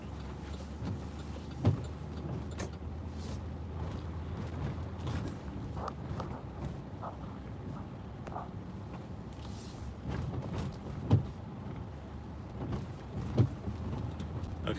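A car drives by a lakefront during the approach of Category 4 Hurricane Laura in Texas and Louisiana, a low steady road rumble inside the cabin with occasional thumps and wiper or window sounds over it.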